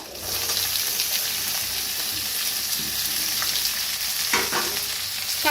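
Chopped onion frying in a pan for a fenugreek-leaf dish, a steady close sizzle with scraping stirs throughout and a brief louder crackle near the end.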